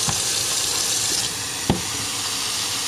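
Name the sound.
water running from tap to fill a pot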